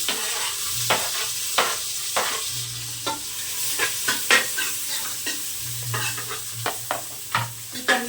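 Chopped medium-sized onions and green chilies frying in a pan, a steady sizzle broken by repeated scraping stirs of a spatula and occasional low metallic knocks, close and clear with no talk.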